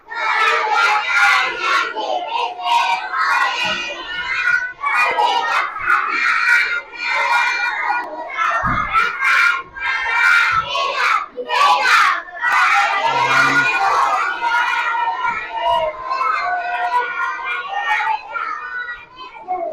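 A classroom of children chant and clap together in rhythm, their voices loud and overlapping with bursts of shouting and a few sharp hand claps, close and lively throughout.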